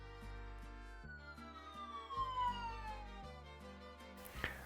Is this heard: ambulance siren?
yes